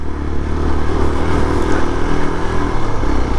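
Motorcycle engine labouring steadily in low gear up a steep climb on a mountain road ride from Pokhara to Mustang, Nepal, a continuous loud drone with rattling and clatter throughout.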